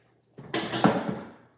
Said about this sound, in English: when we strain our pasta, we save some of the water